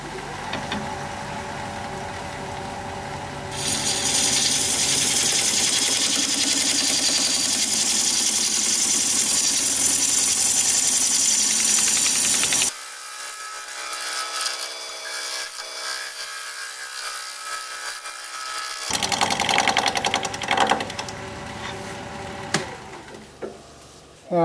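Steady, loud scraping and rubbing of a tool cutting spinning hard madrona wood on a lathe, with a pause midway before the turning resumes more unevenly.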